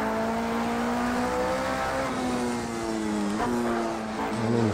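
A Porsche 919 Hybrid race car engine in Project Cars 2 on the Nurburgring Nordschleife, holding a steady high drone that briefly dips and steps down in pitch as it shifts down a gear, loud and continuous with no talk.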